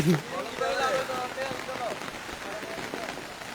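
Rain falling during a 2025 flood in Parshuram, Feni, a soft steady patter on surfaces under a voice speaking briefly, faint and diffuse.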